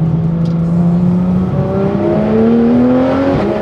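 A Porsche 991 GT3 RS flat-six fitted with a full aftermarket exhaust revs up steadily and loudly close by, its pitch climbing in a smooth, continuous howl with no talk.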